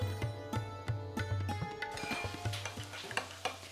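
Repeated scraping and knocking of a utensil mixing batter in a bowl, quick irregular strokes close by, over a low steady hum.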